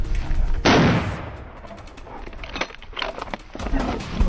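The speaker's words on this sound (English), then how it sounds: "a sharp gunshot rang out decisively" A gunshot fired at a charging wild boar in a forest clearing during a hunt, a single sharp blast followed by rumbling echo and outdoor noise, no voices.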